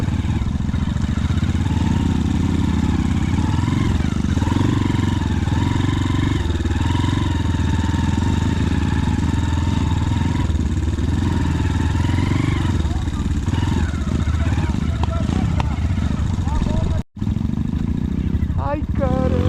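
A motorcycle rides through heavy rain, its engine rumbling and rising and falling in pitch with clatter as the bike slides sideways. People talk over it throughout.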